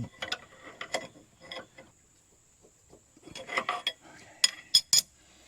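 Metallic clicks and clanks come from a wrench tightening hydraulic motor bolts on a timber cutter, scattered ratcheting bursts up close with quiet gaps and a few sharp knocks near the end.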